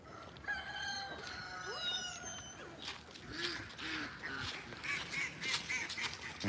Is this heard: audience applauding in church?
no